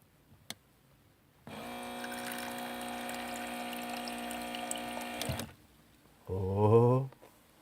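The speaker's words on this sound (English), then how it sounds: "2 cups of water." Tap water pours steadily into a pot of washed pasta for about four seconds at an off-grid canal-side camp, close and even, then stops before a voice speaks.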